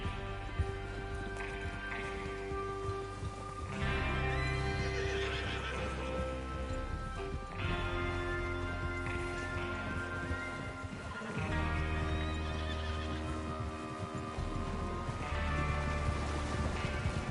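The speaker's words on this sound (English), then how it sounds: "Get your horses ready." Video game horses whinny and hooves clop steadily over a continuous musical backdrop, the neighs rising several times amid trotting.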